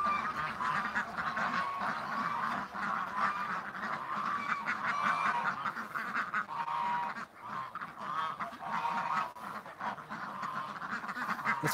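A group of ducks quacking and honking continuously, a busy overlapping chorus of nasal calls close by, with almost no talk.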